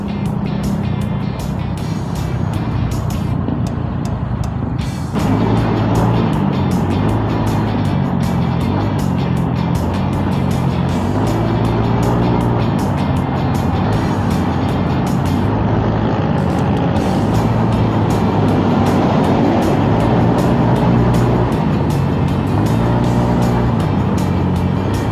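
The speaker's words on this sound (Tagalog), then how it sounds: "Stop muna natin guys. Sobrang traffic." Heavy road traffic roars continuously, with engines droning and vehicles passing close by, loud and steady throughout with no talk.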